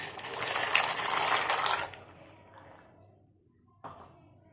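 Dry macaroni pasta tipped into a pot of boiling water, a loud rattling clatter for about two seconds, then quieter bubbling with a brief knock near the end.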